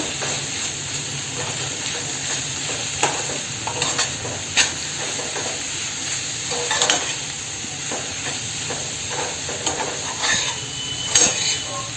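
Drumstick leaves, a traditional Malvani vegetable dish, are sautéed in a pan with a constant close sizzle and hiss, broken by repeated clinking spatula scrapes against the metal.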